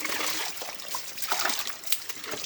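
Water being scooped and poured while draining a catfish pond, a close run of splashes and trickles with irregular sloshing bursts, fairly faint and continuous.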